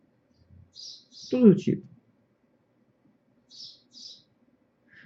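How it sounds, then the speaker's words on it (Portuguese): Small birds chirp briefly nearby in two short bursts, at the start and again near the end, while someone speaks quietly between them in a calm indoor setting. "E também o cantar de alguns passarinhos que estão aqui perto de mim"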